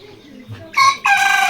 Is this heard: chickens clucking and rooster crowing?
yes